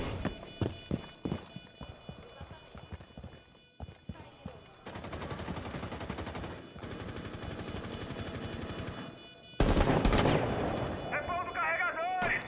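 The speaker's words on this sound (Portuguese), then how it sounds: "Quase que eu atirei no Wellington" Gunfire in the tactical shooter game Rainbow Six Siege: rapid bursts of shots, with a stretch of sustained automatic fire and a sharp, louder volley near the end, while voices are faintly present.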